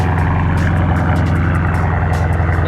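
Ford Mustang GT engine running loud at idle, a steady heavy low rumble with throbbing exhaust pulses, close and continuous throughout, with no talking.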